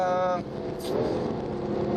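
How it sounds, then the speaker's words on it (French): A BMW M4's turbocharged engine accelerates on a racing circuit with a sustained, rising engine drone, close and loud, while someone talks over it. "avec le moteur turbo, on a une arrivée de puissance qui est"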